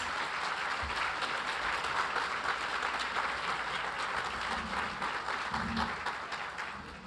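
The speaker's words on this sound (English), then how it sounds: "Let's give them a round of applause." Steady applause from a large audience at a business conference awards presentation fills the room, continuous and even, slowly tapering off toward the end.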